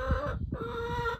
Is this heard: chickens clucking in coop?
yes